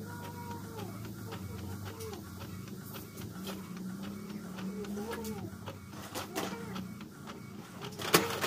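An office printer running a sticker layout onto coupon bond paper, its mechanism whirring and ticking in a steady cycle with repeated sliding sweeps and a few sharp clicks near the end, fairly quiet overall.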